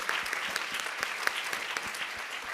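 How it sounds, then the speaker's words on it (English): An audience at a full-day education summit applauds its four speakers with steady, dense clapping that holds at an even, moderate level throughout. "Let's give a round of applause for our 4 speakers today."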